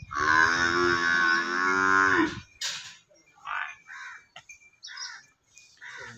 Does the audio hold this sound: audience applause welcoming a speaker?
no